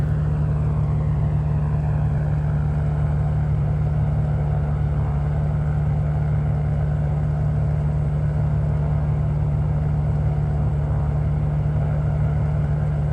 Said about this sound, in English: It sounds very different to the other piston engine prop planes in Flight Simulator.